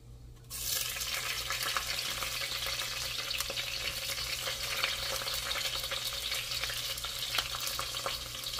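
Ginger, garlic and green chilli hit hot oil for a beetroot biryani, starting with a sudden burst of sizzling that continues as a loud, steady fry, close and alone.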